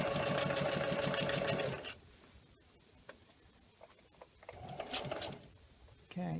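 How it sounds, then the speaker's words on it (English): A sewing machine runs in a fast steady whir while stitching an upcycled pet food bag, stops after about two seconds, then short bursts and handling noises follow; speech is faint underneath. "I gotta make sure the needle is down, and then I'm gonna lift the presser foot"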